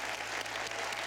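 Studio audience applauding for a television host, steady dense clapping filling the short moment with no voices.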